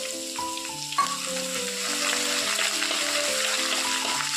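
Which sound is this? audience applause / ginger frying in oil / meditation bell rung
ginger frying in oil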